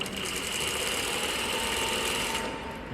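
Sewing machine stitching the bottom of a pocket bag, a steady, fast mechanical whir close by that runs continuously and then cuts off near the end.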